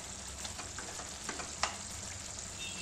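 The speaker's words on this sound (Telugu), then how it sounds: "ఒకసారి కొత్తిమీర మొత్తం కలిపేసుకుందాం." Coriander stirred into gongura chicken frying in a pan, a low continuous sizzle with a few sharp spoon clicks and scrapes against the pan, close and alone without speech.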